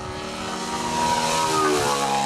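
A radio-controlled model aircraft with a four-stroke engine drones overhead, a steady buzzing propeller note that swells slightly louder as it passes, heard alone in open air.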